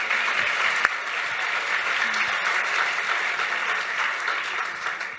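A debate audience applauds in a large hall, a steady, dense wash of clapping that holds at full strength throughout before easing slightly at the very end.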